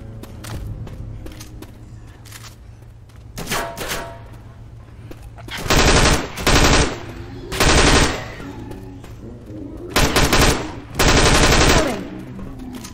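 Gunfire in the video game Left 4 Dead, loud close bursts of automatic fire in several separate volleys with short pauses between, over quieter game ambience and footsteps.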